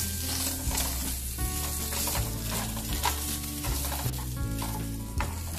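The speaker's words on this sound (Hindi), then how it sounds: "इसमें जो हमारा बॉयल्ड ये पोटैटो है इसे हम हल्के से 1-2 मिनट के लिए सौते करेंगे" Boiled potatoes sauté in a tablespoon of oil in a pan, crackling and sizzling loudly and continuously up close, with music playing underneath.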